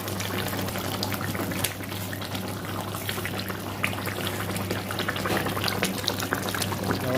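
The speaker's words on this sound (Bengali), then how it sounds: "এবার জল দিয়ে দিতে হবে। জল দিয়ে ভালো করে মিশাতে হবে।" Water poured into a pot of biryani, a steady, close splashing wash with a low hum underneath that runs unbroken throughout.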